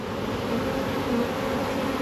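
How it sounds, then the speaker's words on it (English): Honey bees flying around a beehive during spring splits and hive transfers, a continuous close buzzing drone with no voices. "We got a little bit of commotion now. These flying bees are expecting a green poly box"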